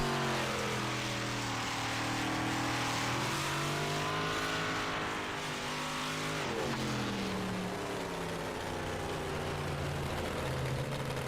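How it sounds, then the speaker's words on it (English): Race cars storming around an oval track during Thursday night league qualifying, a continuous loud roar of several engines with rising and falling pitch as they pass and accelerate, heard alone without talk. "Let's listen to these cars storm off around this place."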